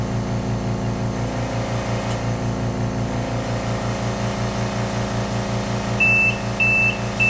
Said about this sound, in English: The unit will beep indicating when we've reached the set point